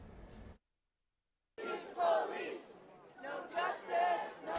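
Crowd of mourners and protesters marching after a police shooting, a mass of voices chanting and calling out in swelling bursts, cut by a full second of silence near the start.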